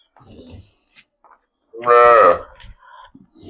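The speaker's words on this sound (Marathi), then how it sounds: "खूप मोठ्या मापाची गाय आहे" A large desi Gir cow in Maharashtra gives one loud, drawn-out moo in the middle, with quieter farmyard noise and faint voices before and after.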